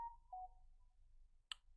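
Phone alert going off in a quiet room: a couple of faint, short electronic tones, then a brief click, alone and distant.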